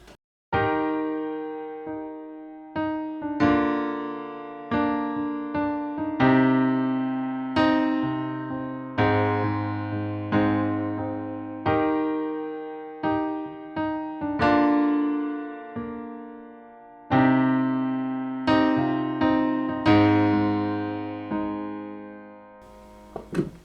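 Piano chords of a worship song's verse played alone in a steady progression, each chord struck and left to ring and decay before the next, with short gaps between phrases.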